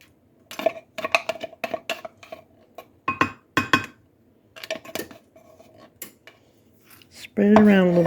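Hormel no-bean chili being spread over a layer in a baking dish, heard as repeated clinks and scrapes of a utensil against the dish in short bursts, with a brief voice near the end.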